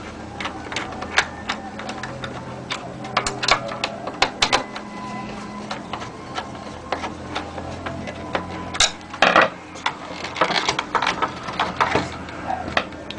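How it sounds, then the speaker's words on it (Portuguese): Screws are driven in while a power transformer is fitted into a micro-system stereo, giving irregular metallic clicks, taps and scraping rattles close up over a quiet background. "Agora é só acabar de parafusar."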